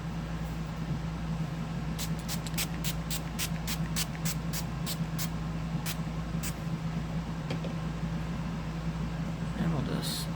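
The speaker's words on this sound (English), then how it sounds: "I'm going to use the Essence Fix and Last 18-hour fixing spray." Essence Fix and Last 18-hour fixing spray is misted onto a face in a series of short, sharp bursts, roughly a dozen quick pumps in a fast rhythm over a low steady background hum, with a brief hiss at the end.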